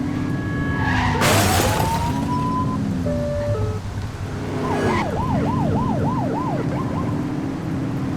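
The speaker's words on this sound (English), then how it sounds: "Turn that siren off" Police car siren in The Precinct video game, a wailing tone sweeping up and down then switching to a fast yelp pattern, loud and close over a running engine with a brief burst of noise early on.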